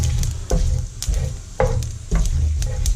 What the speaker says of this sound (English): those seeds just start popping nearly straight away